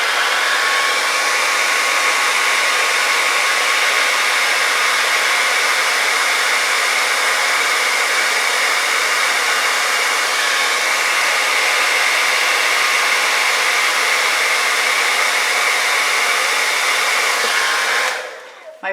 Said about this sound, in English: My blow dryer is got a cold button setting.